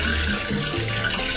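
Tap water pours in a steady, hissing stream at a kitchen sink during the cooking of an orange chicken stir-fry, filling the short moment on its own without talk.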